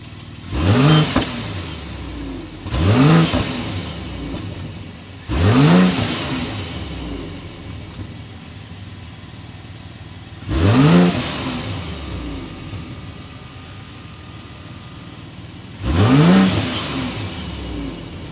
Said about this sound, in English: Let's go inside, start it up so you can hear that exhaust note.